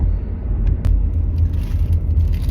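From inside a vehicle on a road, a steady low rumble of engine and tires continues throughout, with a couple of brief clicks and no talk.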